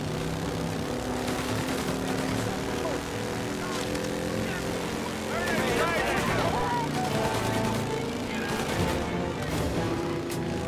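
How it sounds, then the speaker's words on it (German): Enemy gunfire in Mafia: Definitive Edition, scattered gunshot cracks mixed with engine and aircraft-like drone and game music, with someone talking over parts of it. "Ja, und die Halunken schießen auf uns."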